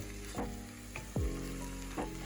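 Tofu scramble sizzles steadily in a frying pan while a utensil scrapes and stirs through it in a few distinct strokes, close and clear with no talking.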